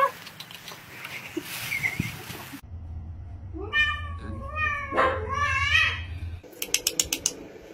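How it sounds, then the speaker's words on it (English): A house cat meows repeatedly in clear, close cries, some drawn-out and wavering, with a steady low hum and scattered clicks around it. "Where's the kitty cat?"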